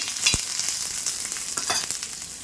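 Onion browning in masala in a pan for stuffed bharwa baingan, a loud, close, steady frying sizzle with a sharp spatula knock near the start and a few scraping stirs later.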